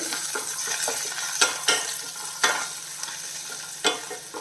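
Chopped ginger and garlic fry in a hot pan for an okra dish, crackling steadily up close while a spoon stirs and scrapes, producing several sharp clacks against the pan.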